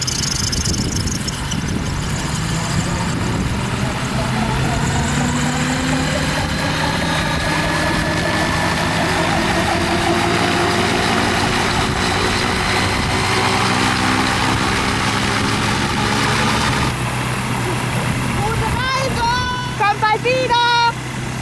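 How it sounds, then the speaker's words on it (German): Gyrocopter engines drone steadily in a loud, buzzing hum with shifting pitch, close by and continuous, while people talk over the noise. "Bisher höre ich die Motoren"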